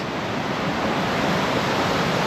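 Ruby Falls, a waterfall reached on an uphill hike near Helen, Georgia, roars as a constant broad rush of falling water, loud and unbroken with no voices.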